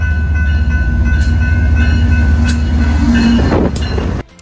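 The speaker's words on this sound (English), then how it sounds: "And those trains are really, really loud because they blow their horn every time they come through." A train passes on beachside tracks in White Rock, British Columbia, a loud, steady rumble of wheels and cars close by that holds for about four seconds before cutting off abruptly.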